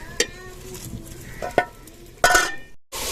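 Potatoes stirred into fenugreek (methi) in a cooking pan, with a few sharp scrapes and clinks of a spoon against the pan over a soft background sizzle.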